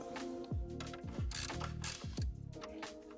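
A ratchet clicks rapidly while backing out screws that hold a Mercedes CL-Class command module, several quick bursts of close, crisp pawl ticking separated by short pauses.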